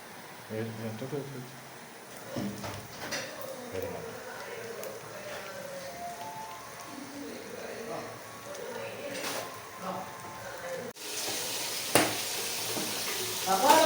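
Ground chili and coriander paste fries in hot oil for a Kerala kappa and fish-head curry, with a soft continuous sizzle and occasional stirring taps beneath a person talking throughout.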